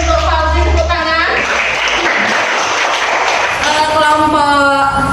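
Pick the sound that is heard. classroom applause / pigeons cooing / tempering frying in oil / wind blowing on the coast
classroom applause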